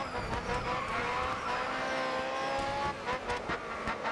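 A race car in GRID Autosport holds a steady, high engine drone that shifts pitch slightly as it slows for a corner, loud and continuous, with faint tire noise underneath.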